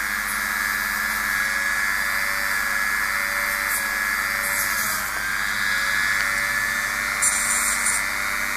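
A rotary tool whines at high speed, polishing plastic puzzle parts for an Emperor Pyraminx, a steady close drone with faint brief contact scrapes.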